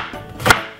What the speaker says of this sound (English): gonna cut off a few slices like that